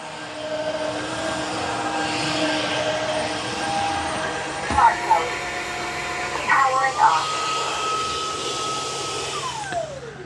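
A Dreame H15 Pro wet-dry mop vacuum drones steadily with a high motor whine, with a couple of brief bumps and rattles midway and a falling pitch near the end, under occasional talk.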